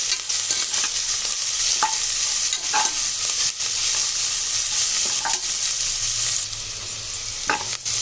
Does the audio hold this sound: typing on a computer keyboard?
no